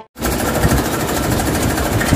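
A loud tractor engine runs close by with a rapid, steady knocking clatter, a fast mechanical ticking repeating continuously over a dense rumble.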